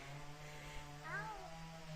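A grey cat meows once, faint and somewhat distant, over a low steady hum.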